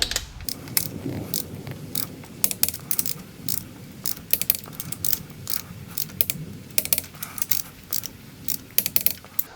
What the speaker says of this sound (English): Alright, so these nuts need to be torqued to 40 foot-pound, whereas these bolts, in my case, they need to be torqued to 25 foot-pound.